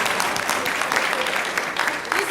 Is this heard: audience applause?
yes